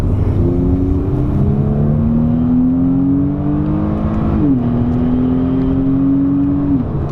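A Kia Stinger GT2 AWD accelerates at partial throttle from inside the cabin, its engine drone rising steadily in pitch, dipping briefly at a gear change, then climbing again, loud and continuous.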